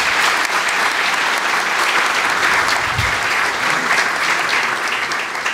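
An audience at a public talk or panel claps steadily and loudly for several seconds, the applause dense and even throughout.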